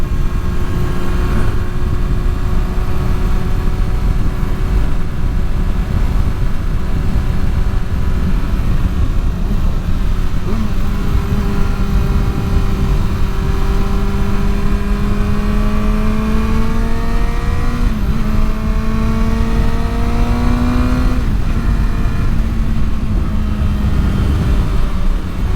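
A 2023 Kawasaki Ninja ZX-6R sport motorcycle cruises a twisty backroad, its engine droning steadily with rising and falling pitch through gear shifts, loud and close with wind rush throughout.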